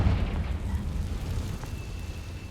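The Confringo blasting spell in Hogwarts Legacy sets off a deep, rumbling explosion that booms loudly at first, then trails into a fading roar.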